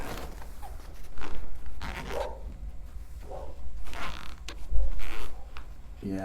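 Several rough zipping strokes with creaks and rustling as a cheap-zippered guitar gig bag is handled and opened up close, no talking.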